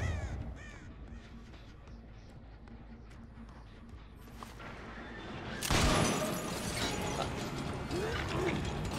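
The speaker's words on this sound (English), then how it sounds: "I love these birds." Crows caw repeatedly amid clicking, ratcheting mechanical game sounds in a video game, with a louder burst of activity partway through.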